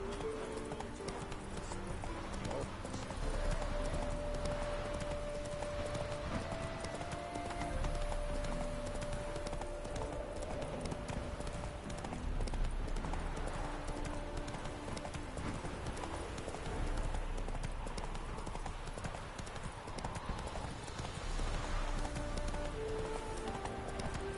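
In The Witcher 3, the horse Roach gallops along in steady rhythmic hoofbeats under game music and ambience for the whole stretch.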